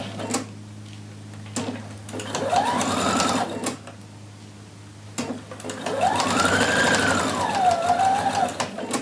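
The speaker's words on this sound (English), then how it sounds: "And we are going to now stitch the collar sections together." Sewing machine stitching shirt collar sections together, with steady mechanical whirring that runs in bursts and pauses, close and clear with no talking.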